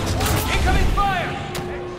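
Battle sounds from Star Wars Battlefront II on Hoth, with blaster and artillery fire in rapid bursts, whizzing shots and a booming hit, mixed with distant shouting voices.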